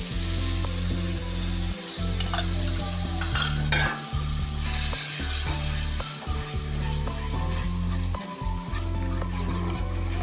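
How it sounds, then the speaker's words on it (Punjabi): A ladle works through a yogurt masala gravy for capsicum and paneer in a pan, steady sizzling and stirring over a continuous low hum, with occasional scraping against the pan, close and fairly loud. "ਜਿੰਨੇ ਚਿਰ ਇਹਨੂੰ ਉਬਾਲਾ ਨਹੀਂ ਆਉਂਦਾ ਉਹਨੇ ਚਿਰ ਇਹਨੇ ਵਿੱਚ ਕੜਛੀ ਇਸੇ ਤਰ੍ਹਾਂ ਮਾਰੀ ਜਾਣੀ ਹੈ"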